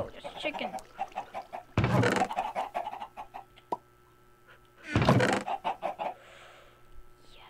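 Short, rhythmic clucks from a Minecraft chicken run through the clip, broken twice by loud bursts of noise, with a lone sharp tap between them.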